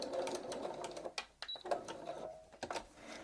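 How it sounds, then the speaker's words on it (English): A sewing machine backstitches through Homespun rag-quilt fabric in short bursts of rapid stitching, separated by brief pauses, close and fairly quiet. "And backstitch at my notch"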